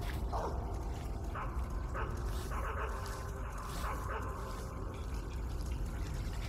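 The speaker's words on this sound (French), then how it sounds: "Le pire ennemi, le chien." A guard dog in the stealth game Metal Gear Solid 3 barks in a run of short, sharp yips and whimpers spaced a second or so apart, over a steady bed of jungle ambience and rushing water.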